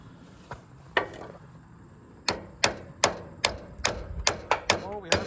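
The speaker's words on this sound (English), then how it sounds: "And more hammer." Hammer blows ring out against a stuck slip yoke on an Oliver Cletrac OC-3 crawler tractor, starting with a few spaced strikes and then a quicker run of about ten sharp metallic hits, fairly close in a quiet setting.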